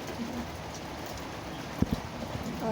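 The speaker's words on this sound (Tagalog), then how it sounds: "Oh, rain, rain." Rain falling during the first summer downpour, a soft continuous patter with a few nearby knocks and faint bird cooing in the background.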